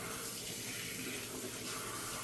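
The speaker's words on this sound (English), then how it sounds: "So when you turn on the water" Steady hiss of water running from a tap into a salon shampoo sink, continuous and even throughout with no talking.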